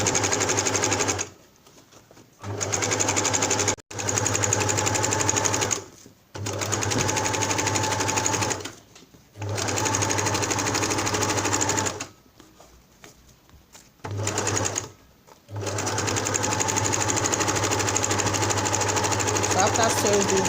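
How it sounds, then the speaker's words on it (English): A sewing machine stitches scarf fabric together for a headwrap, running in loud, close, steady whirring stretches broken by short pauses as the fabric is repositioned. "I'm going to sew it together"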